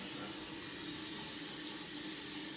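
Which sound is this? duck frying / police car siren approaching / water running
water running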